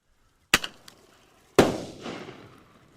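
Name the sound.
bird banger firecracker fired from a cap gun, exploding midair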